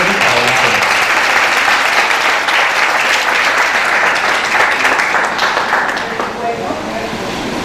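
A large conference audience gives a long, dense round of applause that welcomes a speaker, loud and close throughout, then thins a little toward the end.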